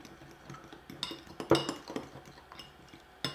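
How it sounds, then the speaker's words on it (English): A spoon stirs an egg yolk into melted chocolate for a chocolate souffle, scraping and clinking against the bowl in a series of close, uneven taps, with one sharper clink midway. "And we'll stir that in."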